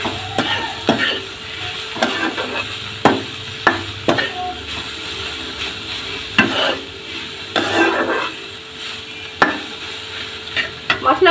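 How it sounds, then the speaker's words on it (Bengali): Homemade spice masala sautéing in a pan for egg rolls, with a steady close sizzle and a utensil stirring and scraping in repeated strokes throughout. "দিয়ে আমি ভালো করে কষে নেব"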